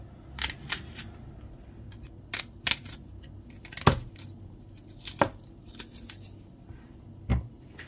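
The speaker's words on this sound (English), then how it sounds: "Then I got to cut my onions." Onions being cut by hand with a knife, without a chopping board, producing sharp, irregular clicks and taps at close range, sparse and uneven with quiet gaps between cuts.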